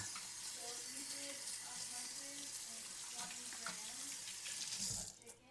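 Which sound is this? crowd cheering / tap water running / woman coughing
tap water running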